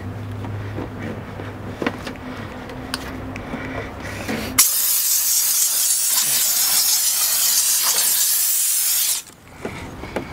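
A steam cleaner blasts a car engine bay near the strut brace, a loud, steady hiss that starts abruptly, holds for several seconds and cuts off, preceded by a quieter, low mechanical hum.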